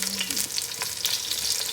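Fish sizzling steadily in hot oil with a clove of garlic, a close, continuous frying crackle with no talking.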